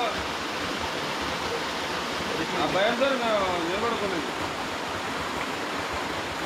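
The hidden waterfall at Kapartheeswara Kona flows in a steady, even rush of falling water, heard close and constant as someone talks over it.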